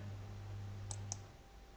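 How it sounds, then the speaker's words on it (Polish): Two quick mouse clicks close a forex trade order on a computer, faint and close over a low electrical hum, spaced about a fifth of a second apart with no talk. "Możemy zamknąć tą transakcję y, klikając zamknij zlecenie."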